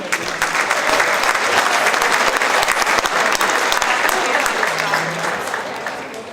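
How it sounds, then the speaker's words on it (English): Full audience applause at a banquet-style royal court event, dense and sustained clapping that tapers off toward the end, with faint voices beneath. "So a round of applause to CWU."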